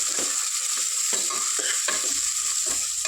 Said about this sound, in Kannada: ಕ್ಯಾರೆಟು ಕ್ಯಾಪ್ಸಿಕಮ್ ಇದೆಲ್ಲನೂ ಕೂಡ ಸ್ವಲ್ಪ ಹಸಿ ಹೋಗೋವರೆಗೂ ಫ್ರೈ ಮಾಡ್ಕೋಬೇಕು